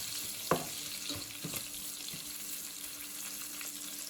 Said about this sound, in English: We just let it saute in the butter for a minute until it's nice and brown.